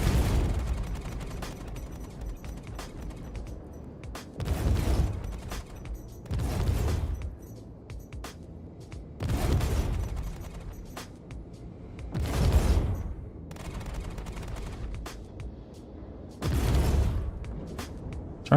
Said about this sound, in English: Trying to see how bad the cannons hurt it